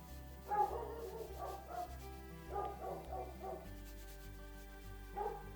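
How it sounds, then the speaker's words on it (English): A big guard dog barks in the background in several short clustered bursts, moderately loud over a steady musical backdrop, with pauses between the volleys. "That's our guard dog in the background."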